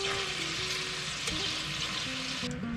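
Ground beef browning in a frying pan gives a continuous loud sizzle and crackle, with faint scraping of stirring, close up and without any voices.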